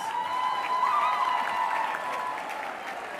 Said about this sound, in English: Another big round of applause for all our graduates, please.